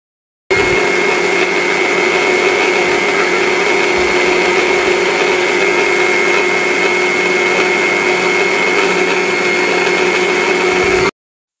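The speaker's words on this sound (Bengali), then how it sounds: "এখন আমি ঢাকনাটা লাগিয়ে ফেলবো, লাগিয়ে ব্লেন্ড করে নিব।" A blender whirs steadily as it blends raw mango juice, a loud continuous motor drone with a high whine that starts abruptly and runs unbroken for about ten seconds, then stops, with no talking.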